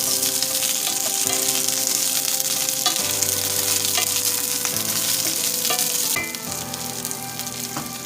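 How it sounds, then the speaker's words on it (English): Asparagus sautéing with garlic in a pan gives a loud, continuous frying sizzle with occasional stirring noises, heard over a constant steady backdrop of tonal sound. "So that garlic don't burn, okay? Put in our asparagus."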